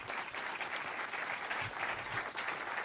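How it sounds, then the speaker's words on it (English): A live debate audience applauds steadily, a dense, even wash of many hands clapping that holds at a constant level for the whole stretch. "give a round of applause to Ambassador Volker for bringing us here"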